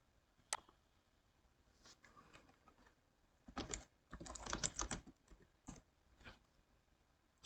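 Bursts of quiet, close typing on a computer keyboard, with separate clusters of rapid key clicks broken by short pauses in an otherwise quiet room.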